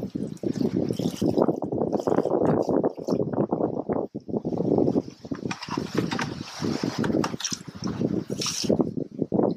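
Water pours and splashes steadily onto compost, close by, with a rushing, gurgling wash that swells and dips over several seconds.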